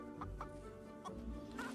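A chicken in the video game Chicken Chaser gives several short clucks in quick bursts, faint and close, with no talk over it.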